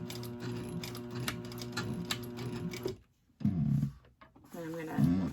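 Sailrite 111 sewing machine topstitching, loud rapid stitching chatter up close that stops abruptly and restarts in short bursts, with a person speaking over it.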